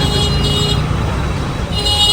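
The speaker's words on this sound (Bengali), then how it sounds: "এই যে জ্যাম শুরু হয়েছে" Jammed road traffic at half past ten on a Bangladeshi street, dense engine drone and close car horns tooting repeatedly over a loud continuous roadway rumble.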